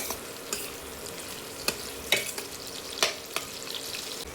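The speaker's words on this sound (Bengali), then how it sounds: "একটু বেশ ভালো করে নাড়াচাড়া করব পেঁয়াজটা যতক্ষণ এনে একটু হালকা ব্রাউনিশ আসছে" Onions frying and being stirred in a pan for a chicken recipe: steady sizzle punctuated by about seven crisp spatula scrapes at irregular intervals, close and with no talking.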